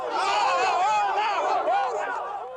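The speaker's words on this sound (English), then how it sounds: "Soon a crowd gathers" Crowd gathered at a Nicaraguan election, many voices chattering and calling out at once in a dense, close, continuous outdoor babble.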